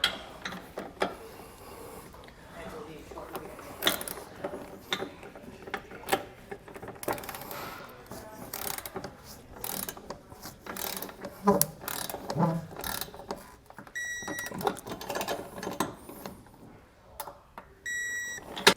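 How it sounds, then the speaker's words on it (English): Ratcheting clicks from a torque wrench tightening nerf bar mounts on a 2006 Jeep TJ, a steady run of mechanical ticks with a few sharper metallic pops and a short electronic beep near the end. "So let's go ahead and get these torqued down."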